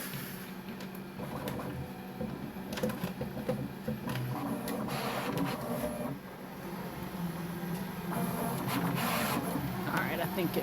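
A Bambu 3D printer runs close by, giving a continuous mechanical whir and scraping rub with rhythmic motor movements, and a person speaks at times over the machine.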